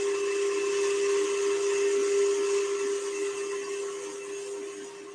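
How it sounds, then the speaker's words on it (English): Electric whisk whipping butter for hot chocolate cupcake frosting, a steady close mechanical whine that holds level and then eases slightly toward the end, with no talking. "I'm just going to give this another quick whisk because it's just been stood there a little bit, so soften it back up"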